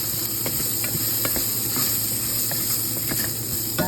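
Lemongrass and ginger sizzle steadily in a hot pan for a chicken soup, a dense continuous frying hiss with small pops and stirring scrapes throughout, close and fairly loud, with no voices.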